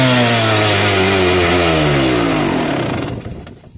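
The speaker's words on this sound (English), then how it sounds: "CR250 two-stroke liquid cooled, hell of a good time." A 1998 Honda CR250 two-stroke, liquid-cooled dirt bike engine blares loud and close, its high buzzing tone dropping steadily as it winds down over a few seconds before falling quiet.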